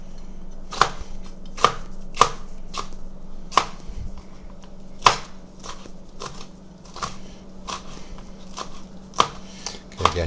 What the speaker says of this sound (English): I'm almost done chopping up my peppers here